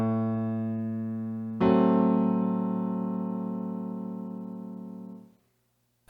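A piano plays the next section of a song, one sustained chord followed by a second struck chord that rings out and slowly fades to silence, clear and alone.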